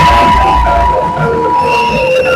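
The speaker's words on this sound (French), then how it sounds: "Je voudrais que vous applaudissiez pour le chef Ebolo." A crowd applauds and cheers at an RDPC political meeting, a loud, dense wash of clapping and shouts with whoops that holds steady throughout.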